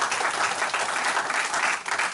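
A church congregation bursts into dense, sustained applause, many hands clapping together in a continuous roar that holds steady for the whole short stretch.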